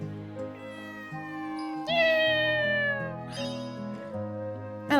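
A cartoonish cat meows several times in the video game Inazuma Eleven Victory Road, clear and close, over steady game background music.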